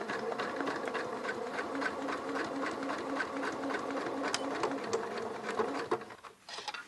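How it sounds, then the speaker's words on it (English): A sewing machine stitches through about eight layers of denim, running in a steady, even buzzing rhythm that stays close and continuous for several seconds before stopping near the end. "And as I sew, take it away and it sews nice and evenly."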